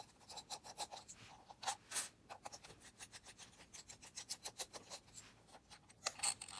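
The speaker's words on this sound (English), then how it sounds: "you just use a Torx, and you nicely, smoothly remove the screws" Torx screws are turned out of a Busch + Müller Ixon Core bicycle headlight, giving faint, close, rapid scraping and ratcheting rubs in quick repeated bursts with a few tiny clicks.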